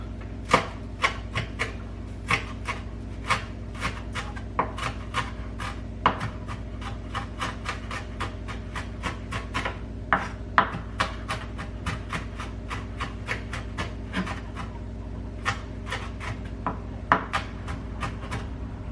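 A knife finely chopping raw onion on a wooden board, a steady run of close, crisp taps repeating in quick, even rhythm for the whole stretch with no talking.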